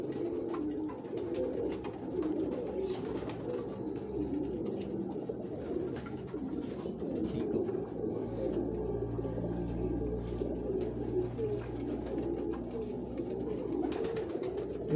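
Soft, low cooing of pigeons close by, repeating steadily against a faint background murmur.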